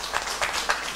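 An audience claps for ministry officials at a results-release ceremony, a short burst of scattered hand claps at steady volume, with faint speech underneath.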